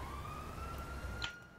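A police car siren wails faintly in the background as a steady rising tone over low engine rumble, ending with a brief sharp sound near the close.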